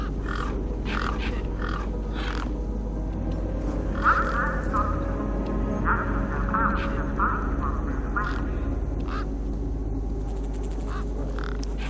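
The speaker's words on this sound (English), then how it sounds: "Those birds weren't going to let me anywhere near the back of the truck." Birds near a truck in the video game Beyond a Steel Sky give repeated quacking calls in short bursts, fairly near, over a steady low hum with a voice talking across them.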